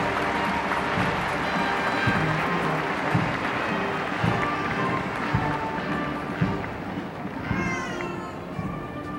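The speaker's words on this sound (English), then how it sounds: "Crowds applauding." Crowd applause at a 1990 Queen's parade for the presentation of colours to the Calgary Highlanders, a dense steady wash of clapping and crowd noise with rhythmic thumps throughout and some high chirps near the end.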